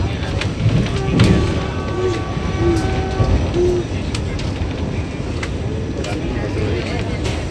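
The Vande Bharat Express from Secunderabad to Tirupati rolls along on its first service with a steady rumbling rail drone, several short horn hoots in the middle, and a person talking over it.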